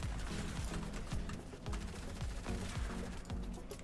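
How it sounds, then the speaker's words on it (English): Repeated hunting rifle shots in Fortnite Season 3, a string of sharp low thumps spaced roughly every half second under dense game background noise. "It's a hunting rifle."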